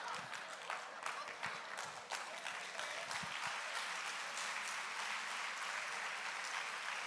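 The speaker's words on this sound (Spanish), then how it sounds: "Yo no sé por qué están aplaudiendo" A church congregation applauding during a Spanish-language sermon, a dense, steady wash of clapping that carries through the whole stretch, with some voices talking beneath it.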